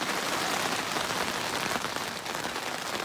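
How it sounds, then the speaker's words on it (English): Steady, dense rain falling on a surface, a constant close hiss with fine pattering drops throughout, no voices. "you might be able to hear me over the rain"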